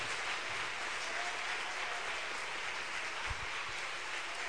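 Congregation applauding during a Portuguese-language church sermon, a steady, even wash of clapping that fills the whole stretch at moderate level with no voices over it.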